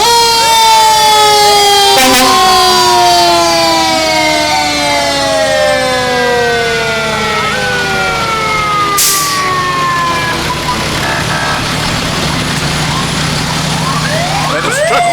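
Fire truck 32, a tower ladder truck, wails its siren in a parade, a loud, close, rising and falling electronic siren sweeping repeatedly over engine rumble, with short blasts and crowd noise.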